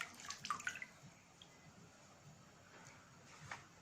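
Chicken pieces for a homemade crispy zinger burger are dipped into a bowl of water, giving a few soft splashes and drips near the start, then quiet kitchen background with faint later drips.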